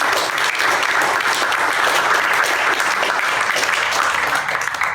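Steady, dense applause from an audience at a poetry reading in Rutherford, New Jersey, sustained and fairly loud for the whole stretch without talk.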